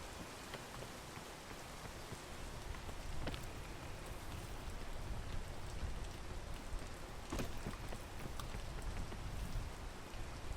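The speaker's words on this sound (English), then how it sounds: "why'd it have to rain right when I made that jump?" Steady rain falling in the video game PEAK, a dense continuous hiss with scattered louder drop impacts, holding an even level throughout with no talk over it.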